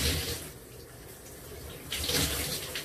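Tap or shower water runs steadily as broadband hiss, fairly quiet and close, swelling louder toward the end, with no voices.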